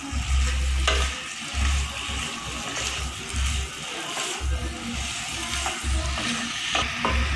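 Pork fries in hot oil in a pan for Chinese-style humba, a continuous loud sizzle with rhythmic scraping and stirring strokes coming through it throughout.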